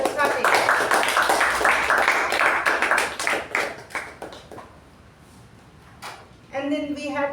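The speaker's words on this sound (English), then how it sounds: "A big round of applause to Toastmasters Saketh." Audience at a Toastmasters club meeting breaks into a loud, dense round of clapping that fades out after about five seconds, followed by a brief burst of talk near the end.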